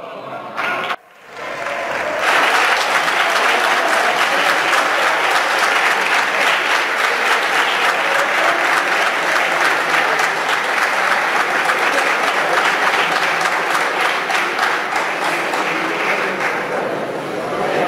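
Sustained, loud applause fills the Spanish Congress of Deputies chamber, a dense steady wash of many hands clapping that starts abruptly and continues without letup.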